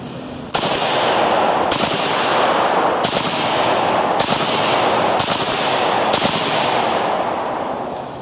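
A gun fires in burst mode: six sharp loud bursts of shots a second or so apart, each a rapid crackling cluster, ringing outdoors with steady background noise between.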